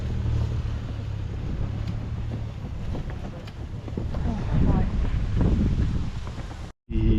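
Strong wind buffets the microphone at an outdoor show garden at Malvern Spring Festival, a continuous roaring rush with gusts swelling midway, ending in a brief dropout.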